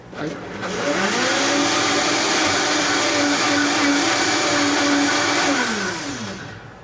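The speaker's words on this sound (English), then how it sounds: "Put the whole thing on the Vitamix." A Vitamix blender whirs through a kefir and aloe drink, spinning up to a loud, steady high-pitched motor roar, holding for several seconds, then winding down, close by.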